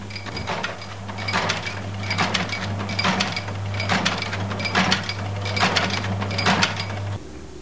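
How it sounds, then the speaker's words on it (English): A tatami mat sewing machine running steadily, with a low mechanical hum under a regular rhythm of rattling, clacking stitch cycles. Roughly eight evenly spaced bursts come up close, and the hum cuts off near the end. "There are two types of machine used for sewing tatami mats."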